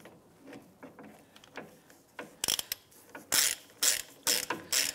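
A ratchet tightens the wheel hub bolts on a 2005-2007 Ford Five Hundred. Soft clicks at first give way to loud, close bursts of rapid ratcheting in a steady back-and-forth rhythm, with no speech.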